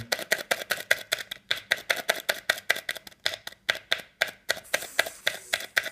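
Foil stretched over a shisha bowl being punched with holes, a rapid run of sharp, close crinkling taps in an even rhythm, dozens of crisp pokes one after another with no talk.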